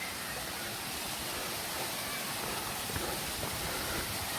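Spring water from a volcanic source pours down Mandayao Waterfall in Negros Occidental, Philippines, giving a steady, fairly faint broadband rush with no talking.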